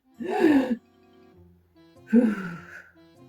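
A patient in a clinic checkup breathes deeply twice for a doctor, two long, close, breathy exhalations with a quiet pause between them.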